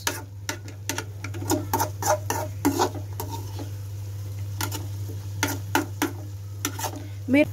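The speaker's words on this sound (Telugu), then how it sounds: "మంచిగా మిక్స్ చేసుకోవాలి గైస్" Egg mixture being stirred in a pan for egg bhurji at home, a series of sharp, close scraping and tapping strokes over a steady low hum, with a voice speaking in between.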